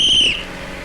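A person whistles to stop a bus: one short, sharp, shrill blast that cuts off after a moment, leaving faint background noise.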